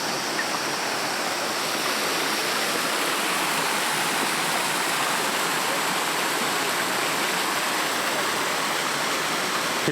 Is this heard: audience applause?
no